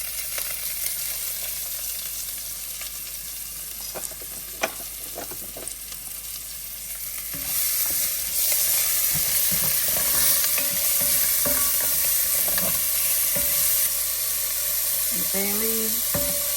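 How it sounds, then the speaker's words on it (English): Garlic hits the oil left in a pan after browning chicken, and a quiet hiss swells into a louder, continuous sizzle about halfway through, with stirring clinks and brief talk over it. "with the oil that's left in the pan, we're going to put the garlic in."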